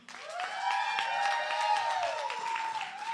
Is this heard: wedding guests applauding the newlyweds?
yes